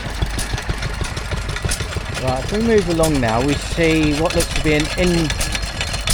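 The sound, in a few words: vintage stationary engine running at transport festival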